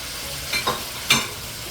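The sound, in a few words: Chinese sausage frying in a pan for pancit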